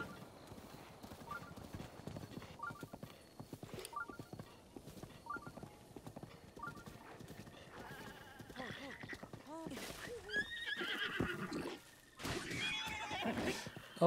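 A horse in The Legend of Zelda: Breath of the Wild whinnies loudly over clip-clopping hooves and game sound effects, with a person talking quietly underneath.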